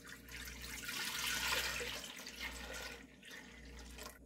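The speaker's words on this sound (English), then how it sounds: "So first thing we're going to do is get the milk in the pot and start that heating process." Two liters of store-bought whole milk pour into a cooking pot in a continuous, soft liquid rush that swells and then tapers, fairly faint and close, with no talk.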